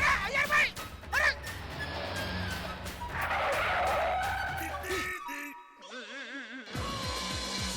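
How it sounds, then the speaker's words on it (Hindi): A car skids to a stop on its tyres in a comedy scene, a loud screeching slide lasting several seconds amid music and a short burst of voices, followed by quieter sound effects. "अरे ये तो बबीता जी की गाड़ी ह"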